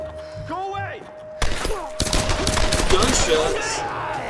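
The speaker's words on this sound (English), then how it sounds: "Gunshots!" Gunfire in the Tomb Raider video game: sudden bursts of loud rapid shots and thuds erupt after a brief quiet, with game sounds and a person's excited voice mixed in.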